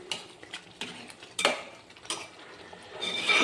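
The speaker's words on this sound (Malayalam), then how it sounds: "നമുക്ക് ഈ ഉരുളിയിലിട്ടിട്ട് നന്നായിട്ട് വഴറ്റി കൊടുക്കുക" Beef curry is stirred and sautéed in a metal uruli pot, with a spoon scraping and clinking against the pan in irregular strokes, close and moderately loud, with no talking.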